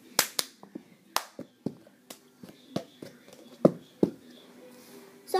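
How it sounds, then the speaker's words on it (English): A cup song performed with claps and taps of a cup on the floor, a rhythmic pattern of sharp, distinct hits and claps with short pauses between, close and clear in a quiet room. "Today I'm going to show you how to do the cup song"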